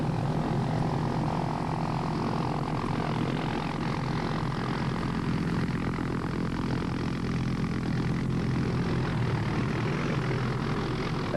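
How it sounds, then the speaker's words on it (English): A Hughes 500 medical evacuation helicopter arrives through early morning mist in Nicaragua, its engine and rotors making a loud, steady, broadband roar that holds at a constant level throughout. "At last, the medical evacuation helicopter arrives through the early morning mist."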